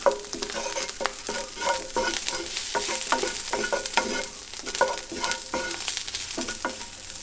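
Fried chickpeas with paprika are stirred in a hot pan, steady sizzling under repeated close scraping strokes of a utensil, with no talking.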